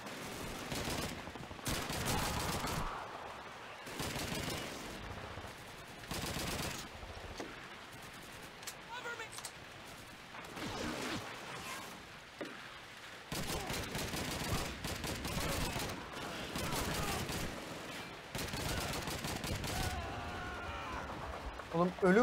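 Gunfire from the Call of Duty 2 video game comes in repeated loud bursts of automatic and single shots, scattered through the scene with short gaps between volleys, while someone talks over the battle.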